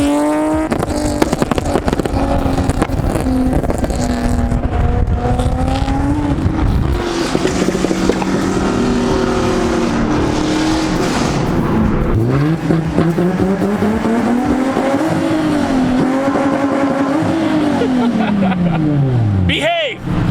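A C7 Corvette and a Nissan 370Z race on a street, engines roaring continuously with rising and falling revs, loud and close throughout, with people talking over them.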